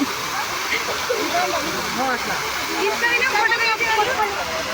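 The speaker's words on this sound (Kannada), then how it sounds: "ನಮ್ಮ ಮೇಲೆಲ್ಲ ಬೀಳ್ತಾ ಇದೆ ನೀರು." Water from a waterfall pours down onto people standing beneath it at the Sri Sri Ravi Shankar Ashram near Bangalore, a loud, dense, constant roar up close, with voices talking through the spray.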